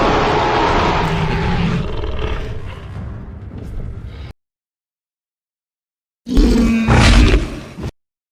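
A loud dinosaur roar from a Jurassic World video game, a long growling bellow that fades out, followed by silence and then a second, shorter snarling roar.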